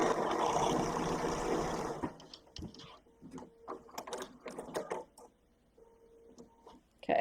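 Short bursts of mechanical clatter from a sewing machine stitching a seam along a drawn line, after a steady opening whir; irregular start-stop runs close to the microphone.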